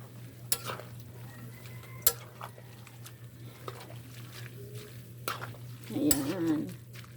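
Noodles for fresh pancit guisado are stirred in a pan, with soft scraping and tossing over a steady low hum and light sizzle, scattered utensil clicks, and a louder burst of clattering movement near the end.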